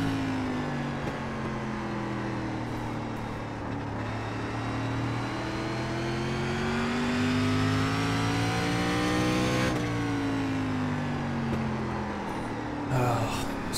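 A race car engine in the iRacing SRX Series at Stafford revs loud and close, its pitch climbing steadily through acceleration, dropping briefly at a gear change, then rising again under continuous throttle.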